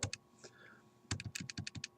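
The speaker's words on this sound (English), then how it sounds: "Let me type it in again here." Bursts of typing on a computer keyboard while entering a compound-interest equation, a quick cluster of key clicks, a short pause, then a faster run of distinct taps, close and fairly quiet with no talking.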